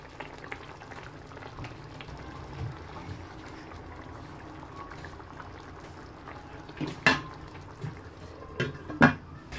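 Tajine kefta sauce with meatballs simmers in a frying pan, giving a low, soft bubbling throughout, with a few louder clinks and splutters near the end.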